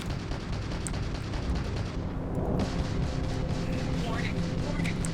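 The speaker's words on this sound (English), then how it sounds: "Warning, incoming fire." Incoming weapons fire in the sci-fi space game Starfield, a dense continuous barrage of blasts and rumbling booms held at steady loudness throughout, with a brief lull near the middle.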